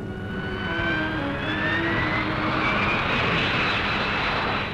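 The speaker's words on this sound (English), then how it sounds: "The Harrier, the world's first operational vertical takeoff fighter." A Harrier vertical takeoff fighter jet roars overhead, its loud engine drone filling the air with a rising whine that sweeps upward as it passes, steady and continuous with no voices.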